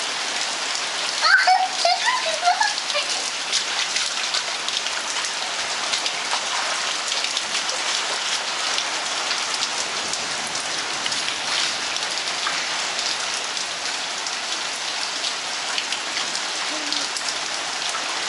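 Steady rain falls across a surface outdoors, a dense, even hiss of drops continuing throughout at a fairly loud level with no voices over it.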